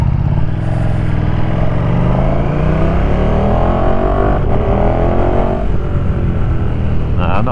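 Revving of a 2020 KTM 1290 Super Duke R with an Austin Racing V3 Mini 200mm aftermarket silencer, a loud continuous engine drone rising in pitch as it accelerates, picked up by a recorder in a backpack while riding.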